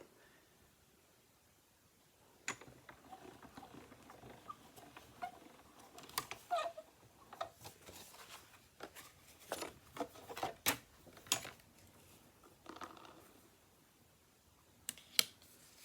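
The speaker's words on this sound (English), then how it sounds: "I'm going to get out the Stampin' Cut and Emboss machine to cut out some of these colors" A Stampin' Cut and Emboss machine cranking colored cardstock through, with quiet, irregular clicks, ratchety creaks and sharp mechanical snaps at close range after a near-silent start.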